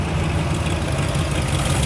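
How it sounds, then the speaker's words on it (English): A hot rod pickup truck at the Wasaga Beach car cruise idles with a steady, low, loud rumble that holds an even tone throughout, no voices over it. "there's Mr. Arsenal and his beautiful hot rod truck"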